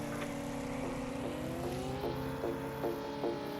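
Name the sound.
car engine revving in second gear, from video game Sub Rosa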